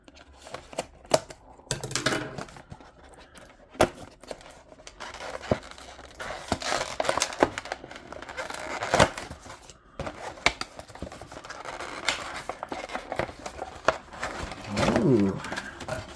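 Someone opens a taped cardboard package holding a home security camera, with sharp rips, scrapes, taps and crinkling of packaging in irregular bursts, close by, under someone talking at intervals.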